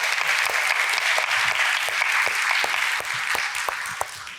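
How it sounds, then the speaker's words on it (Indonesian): A studio audience at the Kick Andy talk show claps warmly for guests called to the stage, a dense, continuous round of applause that holds steady and tapers slightly near the end. "Kita berikan aplaus sekali lagi."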